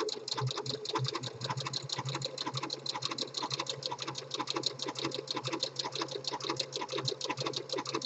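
Home sewing machine stitching a seam in fleece fabric, running steadily and rapidly in a continuous close, even mechanical patter throughout, with no voices.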